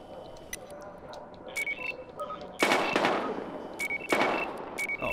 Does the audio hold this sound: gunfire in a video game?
yes